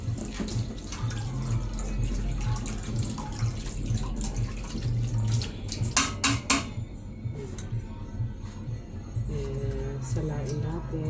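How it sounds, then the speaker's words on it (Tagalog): Liquid from a sisig preparation is strained in a kitchen, a steady watery pour and trickle with clinks of a strainer or pot, running on for several seconds with background noise and talk. "Salain natin para make sure na kuhang-kuha yung katas."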